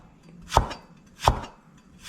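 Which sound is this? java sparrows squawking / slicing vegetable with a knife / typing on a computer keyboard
slicing vegetable with a knife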